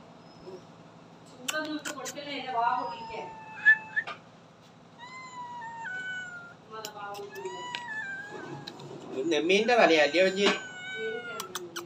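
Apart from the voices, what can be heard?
cat meowing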